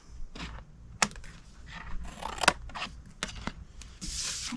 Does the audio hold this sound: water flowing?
no